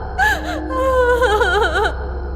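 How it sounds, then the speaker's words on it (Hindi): A girl crying at night as a story sound effect: a few close, wavering sobbing and whimpering cries with gasping breaths, rising and falling over a low steady background hum. "इतनी रात गए लड़की के रोने की आवाज।"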